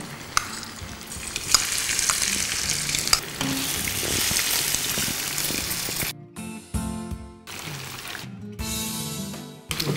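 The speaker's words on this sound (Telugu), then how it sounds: "సో జింజర్ ఫస్ట్ పచ్చివాసన పోయే వరకు వేయించుకోవాలి." Plain ginger frying in hot oil in a pan, a loud continuous sizzle with stirring scrapes, then breaking into sharper, gappier crackles toward the end.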